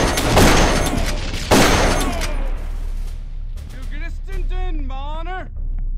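A semi-automatic rifle fires in the video game Darkest of Days: two loud, close shots with echoing tails, then someone talks over lingering background noise.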